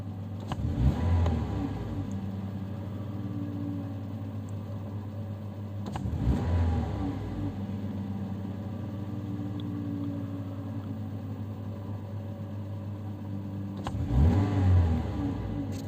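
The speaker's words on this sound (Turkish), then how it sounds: "LPG'deyken sadece ilk gaza basmada, hızlı bir şekilde basmada bir tekleme yapıyordu." A Hyundai Accent engine running on LPG is revved in three quick bursts over a steady idle, each throttle stab rising sharply then falling back, with a possible misfire or hesitation on the first hard press.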